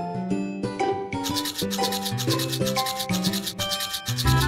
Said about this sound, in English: Brush the teeth.